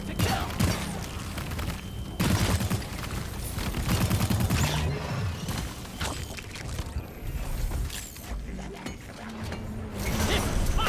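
Dense, sustained gunfire from weapons in the Deep Rock Galactic video game, loud continuous bursts with clanking mechanical noise, with brief shouting voices mixed in.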